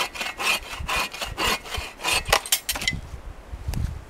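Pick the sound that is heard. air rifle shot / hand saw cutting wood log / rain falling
hand saw cutting wood log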